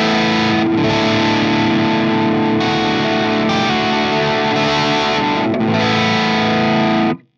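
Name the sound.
electric guitar through KSR Colossus amp channel 2, low gain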